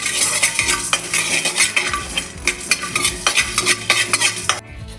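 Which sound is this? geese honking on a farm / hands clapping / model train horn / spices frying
spices frying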